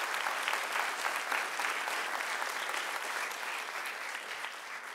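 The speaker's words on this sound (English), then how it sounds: "I'd like you to give them a round of applause" An audience at a police department community event gives sponsors a round of applause, producing a steady wash of many hands clapping that fades slightly toward the end, with no voices over it.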